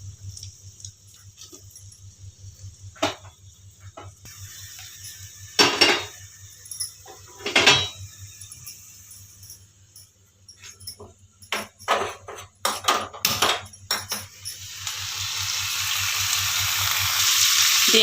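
Broad beans drop into a pan of softened onion, green chili and curry leaves, bringing clattering metal clinks and scraping, then a rising, steady sizzle that grows louder at the end.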